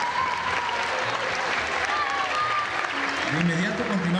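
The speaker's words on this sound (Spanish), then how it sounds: "un fuerte aplauso para la sección A" Applause at a school ceremony for a class section, a crowd clapping steadily for a few seconds with a dense, even patter, while a voice talks over it.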